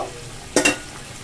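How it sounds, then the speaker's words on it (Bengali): Cubes of paneer are cooking in a pan for matar paneer, giving a steady faint sizzle and then a sudden, brief double burst of louder frying or stirring. "পনিরটা দেখো ফুটে যাবে এবারে, ভালো মতন ফুটে গেলে আমি মিডিয়াম ফ্লেমে করে দেব আর ঢাকা দিয়ে দেব"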